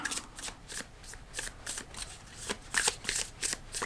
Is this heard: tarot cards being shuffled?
yes